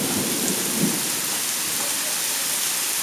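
A severe thunderstorm pours steady, heavy rain with a low rumble of thunder rolling beneath it, close and continuous throughout with no voices.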